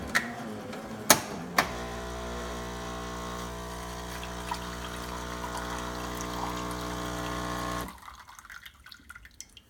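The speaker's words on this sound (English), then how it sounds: "the first time you use it in the morning, it's going to want to rinse itself" A Jura Impressa F50 coffee machine rinses itself, opening with a few clicks before a steady pump hum and water pouring into a cup for several seconds, then stopping abruptly into faint drips.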